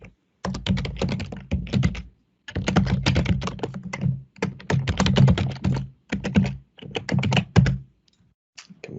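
Close, clear typing on a computer keyboard, rapid key clicks in several bursts of one to two seconds with short silent gaps between them.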